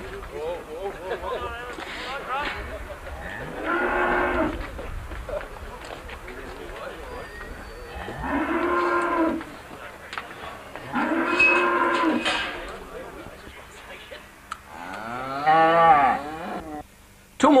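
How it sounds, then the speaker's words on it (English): Cattle at a Christmas fatstock show in 1991, steers and heifers lowing in several long, loud moos spaced through the clip, with crowd chatter and livestock movement in the background. "more steers have just turned up."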